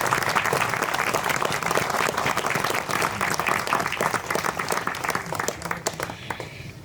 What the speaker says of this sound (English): if we could please all offer up a round of applause for their love and their fortitude